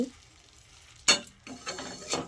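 Dried fish being stirred into vegetables frying in a kadai: a sharp scrape of the spatula followed by a few more stirring strokes over a soft, steady sizzle, close and otherwise quiet.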